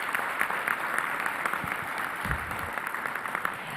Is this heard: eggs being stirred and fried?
no